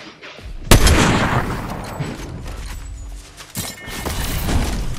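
Gunfire in a video game: a sharp loud shot followed by rapid bursts of firing and booming impacts, with a second heavy blast midway, loud and close.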